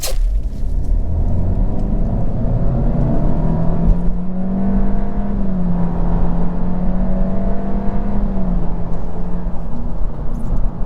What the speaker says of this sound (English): See, the acceleration is more than enough.